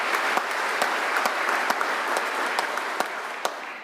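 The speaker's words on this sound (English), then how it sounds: "let's give another round of applause to Deb." An audience at a 2017 Senate Memorial Day ceremony gives a round of applause, steady dense clapping from a crowd that holds throughout and tapers slightly at the end.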